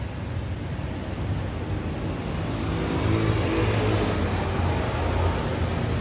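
A motorcycle rumbles past a parking area beside an outdoor coffee spot, its steady engine drone swelling louder midway through, with no talk over it.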